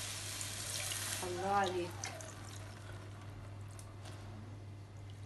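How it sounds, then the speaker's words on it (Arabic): Cool sugar syrup poured over hot Egyptian basbousa, a brief liquid splash and trickle near the mic, partly under a spoken remark and a steady low hum. "انزل بالشربات."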